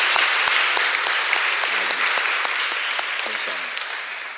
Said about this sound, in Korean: 성가대 박수 하시죠.